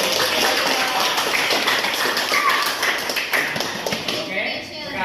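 Students in a classroom clap their hands together in a dense, continuous burst of applause with some taps mixed in. A voice speaks over the clapping.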